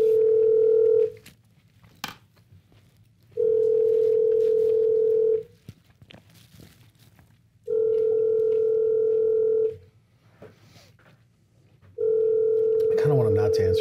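Outgoing phone call ringback tone, four evenly spaced two-second steady tones separated by silent gaps, loud and close, with faint voices between rings.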